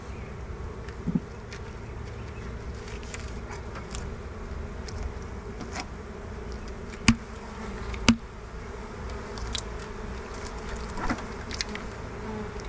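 Bees swarm around a hive during a queen split check, a steady close buzzing drone of many insects with individual bees whizzing past the listener now and then, plus a few sharp knocks.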